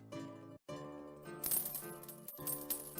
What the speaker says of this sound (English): Oh, it's raining coins!